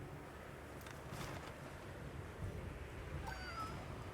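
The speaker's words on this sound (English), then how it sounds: "public domain cat noise" A stock cat meow plays in the game Monster Hunter Wilds, faint and brief, with a short rising-falling mewl over soft ambient game background, no talk.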